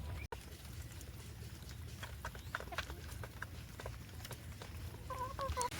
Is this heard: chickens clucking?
yes